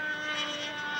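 A model airplane's small OS91 engine whines steadily at a distance, swelling slightly as it flies past.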